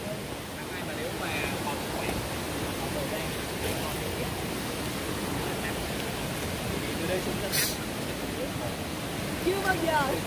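A forest waterfall roars as a steady, dense wash of falling water, loud and constant throughout, with no breaks.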